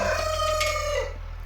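Chickens on a farm give a loud, close, drawn-out call that sounds like crowing, heard alone for about a second before fading.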